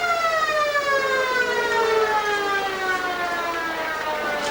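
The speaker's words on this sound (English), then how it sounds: "there goes the time clock with the siren to go" A football ground's siren sounds the end of the first quarter in a league grand final, one long steady wail that slowly falls in pitch, loud and sustained.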